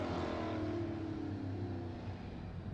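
Steady engine drone of a EuroNASCAR race car out on track at Circuit Zolder, loud and continuous with a slight fade toward the end, no voices over it.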